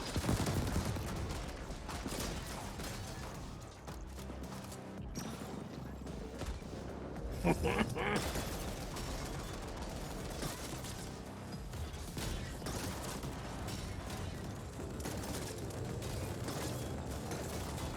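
Continuous gunfire and clattering mechanical noise in the sci-fi shooter The Ascent, a dense steady barrage at moderate level that runs without a break under occasional talk.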